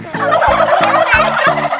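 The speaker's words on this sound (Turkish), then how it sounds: "Bu büyük olanlar erkek hindiler." Several turkeys, including large male turkeys, gobble in quick repeated bursts on a turkey farm, loud and close, with a rapid warbling rhythm and no talking.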